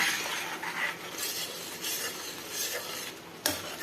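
Six eggs being stirred into masala in a pan, a steady scraping and rubbing of a utensil against the pan with a faint sizzle, close and continuous, ending with a sharp knock.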